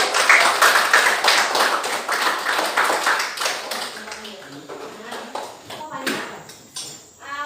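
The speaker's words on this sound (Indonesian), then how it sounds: "Kita beri tepuk tangan." Classroom of students clapping for a group that has just presented in a lesson, a burst of quick overlapping claps that is strongest at first and then thins out and fades, with voices around it.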